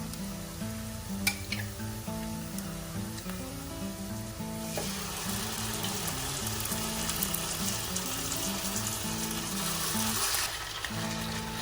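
Chicken sizzles steadily in hot oil in a claypot, a constant crackling hiss with a brief clink early on and no voices.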